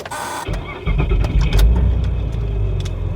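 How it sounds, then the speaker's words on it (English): A click, then the engine of a 2007 Honda Odyssey with a misfire cranks and catches, settling into a steady idle with a low rumble; close and fairly loud. "Start the engine."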